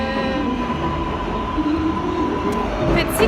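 A New York City subway train rumbles steadily at close range, a loud continuous roar with a tonal hum and some faint high squeals toward the end.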